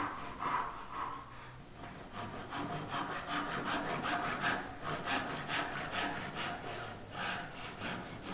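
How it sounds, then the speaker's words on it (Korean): Hand saw cutting a tenon in wood for traditional Korean joinery, a steady back-and-forth rasping of strokes close up, continuous and fairly loud with no talk. "톱질을 합니다."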